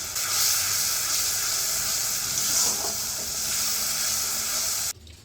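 Salted spices with turmeric and Kashmiri chilli powder sauté steadily in hot oil for a potol korma, a continuous bright sizzle and hiss that holds close and loud, then cuts off abruptly near the end.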